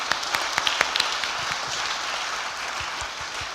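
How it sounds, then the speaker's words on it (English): A conference audience applauds a speaker panel, a dense wash of clapping with a few sharper individual claps standing out early, then settling into steady applause that fades slightly toward the end. "Can I have a round of applause,"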